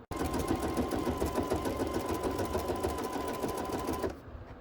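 A sewing machine stitches black-threaded backing onto a wool pumpkin garland in a steady, close, rapid whir for about four seconds, then stops abruptly.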